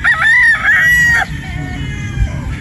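A possum broodstag gamefowl rooster crows loudly and close by at a game farm, one strained, drawn-out call lasting about a second, followed by quieter farmyard background.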